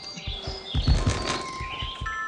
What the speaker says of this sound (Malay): Bunyi burung kuat